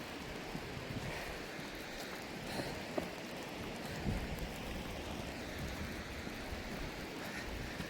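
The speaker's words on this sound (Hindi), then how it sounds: "बारिश पड़ने लग गई है भाई, देखो।" Steady rain pours outdoors in a mountain valley after a cloudburst, a dense continuous hiss of drops with no voices, holding an even level throughout.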